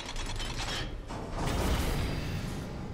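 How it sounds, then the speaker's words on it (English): Mechanical grinding and whooshing of a moving elevator in the video game Darksiders: a continuous gear-and-pulley rumble with ratcheting creaks, swelling briefly in the middle and holding steady throughout, with no talking. "Alright, riding an elevator."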